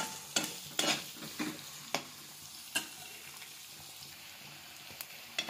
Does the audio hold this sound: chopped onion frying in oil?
yes